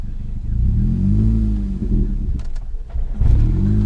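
A manual stick-shift car's engine revs hard as gas is applied, a loud, close droning that climbs and holds, then dips and stutters before surging again, with brief voices over it.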